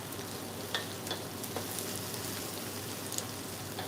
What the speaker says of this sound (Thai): อันนี้เราก็จะผัดให้หอมสุกก่อน